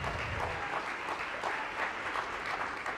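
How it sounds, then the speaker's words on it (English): Applause for moderator Robert at a U.S. State Department event on disability rights diplomacy: a steady wash of many hands clapping, sustained and even for a few seconds with no talk over it. "A huge round of applause for Robert."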